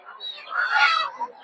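Desi chickens clucking at a busy poultry market, a short burst of nearby hen calls and squawks with a voice faintly mixed in.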